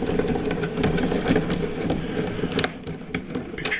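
A Makita chain mortiser runs steadily, a close, continuous mechanical motor drone with a rough, rattling texture and a faint brief knock near the end.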